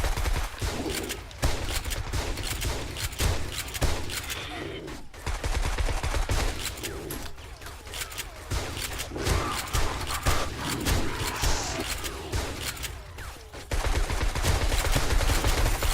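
Laser weapon firing rapid, repeated bursts in the 7 Days to Die Darkness Falls mod during a zombie fight, dense crackling shots running nearly nonstop with game ambience.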